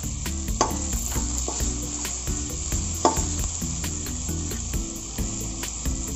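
Carrots and other vegetables sautéing in butter in a kadai, a bright steady sizzle at close range with sharp clicks and scraping stirs over a patterned background hum, no voices.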